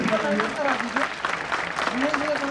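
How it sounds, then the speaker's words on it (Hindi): An audience at a traffic awareness event claps continuously while someone speaks loudly over the applause. "आप लोगों की तालियां वैसी होनी चाहिए, तालियों में कंजूसी ना हो।"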